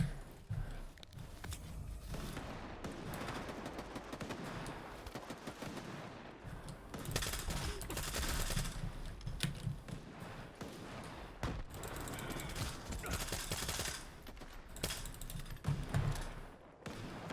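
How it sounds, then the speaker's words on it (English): Full-auto SMG fire in the shooter Stalker 2: sustained rapid bursts of gunfire at moderate level with short pauses between strings, plus some faint footsteps and clicks in the background, with no talking. "when going full auto at this range, it can be kind of hard to control some of these guns"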